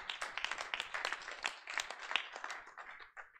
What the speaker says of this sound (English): Let's welcome and give him a round of applause.